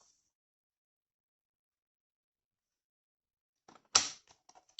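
Card paper is cut through the middle at 10 cm while making scrapbooking pocket cards. After a long silence comes a single close, sharp snap, followed by a few faint small clicks.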